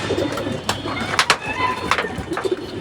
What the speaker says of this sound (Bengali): আমার সঙ্গে কিছু কবুতর আছে, সুন্দর কবুতর।